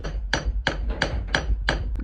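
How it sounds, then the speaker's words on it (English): A hammer lightly taps a bolt on the wheel of a 1983 YTM 200 during a brake job, striking five even, ringing metallic knocks in a steady rhythm, close and clear with no talking. "use a hammer, but lightly tap. You don't want to mess up the threads. So lightly tap and get this whole bolt off."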